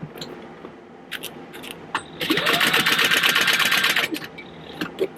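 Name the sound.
sewing machine top stitching fabric purse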